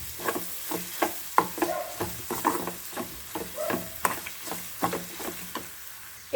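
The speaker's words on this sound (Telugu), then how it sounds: "ఆ రెండు బాగా మిక్స్ చేసుకుందాం." Amla rice seasoned with chili powder is tossed and stirred in a pan, giving rhythmic scraping strokes about twice a second over a soft sizzle, close and clear with no talking.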